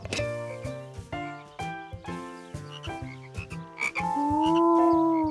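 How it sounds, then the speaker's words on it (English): Cartoon frogs croak in a bouncy chorus, short tonal ribbits in a regular rhythm, ending in a longer, sliding croak, clear and up close with no speech. "Before long, George thought the frogs were even more fun than the tadpoles."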